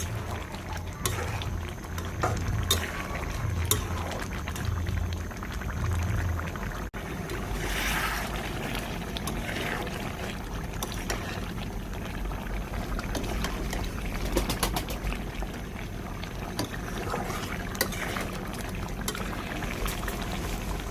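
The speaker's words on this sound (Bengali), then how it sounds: "টমেটোটা দিয়ে আবার একটু নাড়াচাড়া করে দেব। ঝোলটা আমি আরও শুকাবো।" Taki fish curry with tomato simmering in a pan to thicken the gravy, a continuous soft bubbling and gentle sputter with occasional light stirring, steady and close with no speech.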